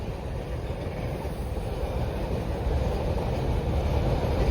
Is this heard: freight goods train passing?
yes